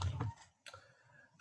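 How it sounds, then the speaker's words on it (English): A notebook set down on a computer keyboard during a council planning meeting, producing a few sharp clicks and clatters spaced apart, close to the microphone. "Apologies, I put my notebook down on the keyboard."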